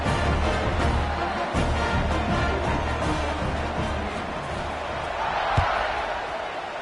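A stadium crowd in a college football video game keeps up a steady, moderately loud din of cheering and murmuring, with a single sharp thump near the end.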